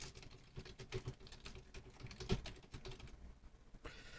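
An email address typed on a computer keyboard: quick, soft keystrokes in uneven bursts, with a few heavier taps and a brief pause near the end.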